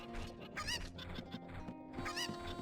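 Cucco chickens from The Legend of Zelda: Ocarina of Time clucking in short rising squawks, twice prominently, layered over steady game music and sustained tones.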